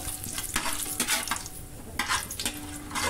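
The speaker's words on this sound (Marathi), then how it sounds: "इथे आपण हे खडे मसाले आपण ह्याच्यात टाकायचे।" Whole spices such as cardamom, bay leaf and dried chilies sizzle in hot oil in a pan for chicken biryani, with close crackling and scraping stirs throughout, no talk.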